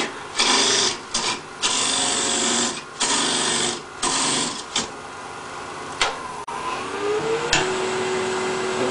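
A wood lathe turning tool shapes the curved bottom of a bowl at about 2,000 RPM, making bursts of loud, raspy scraping cuts separated by brief pauses, then a steady whirring hum with a rising tone as the cutting stops.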